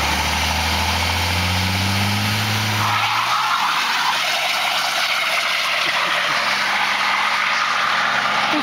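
A 2004 Dodge Ram Cummins diesel accelerates, its exhaust rising in a low roar that climbs in pitch over the first three seconds and then levels into a loud, steady rushing drone.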